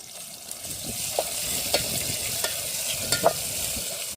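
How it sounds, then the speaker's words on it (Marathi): Steady sizzling of onion, chilli and tomato frying in a pan, with occasional scrapes and clinks of a spoon stirring, fairly quiet and close, outdoors by a river. "कांदा मिरची शिजली मस्त टोमॅटो टाकून घेते"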